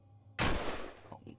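Turret gunfire in Empyrion Galactic Survival, heard as a sudden loud blast that rings out and decays over about a second, followed by a couple of smaller impacts.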